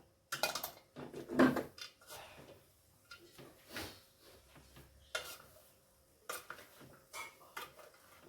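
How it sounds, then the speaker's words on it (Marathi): Flattened rice poha being mixed with grated coconut in a pan, a spoon scraping and clinking against the metal in irregular bursts with quiet pauses between strokes. "हा खवलेला नारळ आहे तो घालूया आणि हे सगळं छान असं मिक्स करूया"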